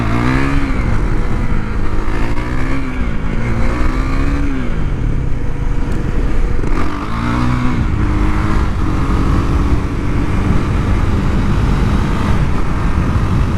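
A KTM Duke 390 single-cylinder engine screams at high RPM in sixth gear near 45 mph, loud and continuous, with repeated rising and falling revs early on, then a steady high-pitched drone.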